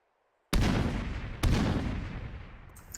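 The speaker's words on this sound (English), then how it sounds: "A lot of grenades going off." Grenades explode in the video game Fireteam, two loud close blasts about a second apart, each hitting hard and rolling off into a long noisy rumble.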